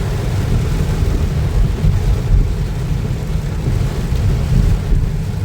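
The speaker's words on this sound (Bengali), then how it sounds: "দুপুরবেলা কিন্তু এত বৃষ্টি দিচ্ছে" Heavy rain pours onto the streets of Mecca, Saudi Arabia, a dense, steady roar with a low rumbling undertone that holds at full loudness throughout, with no voices.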